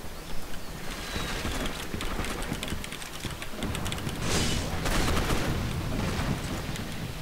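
Salt rifle gunfire in the Gotham City Impostors video game rings out as rapid, repeated sharp shots over a dense, noisy game soundscape, loud and close throughout with no talking.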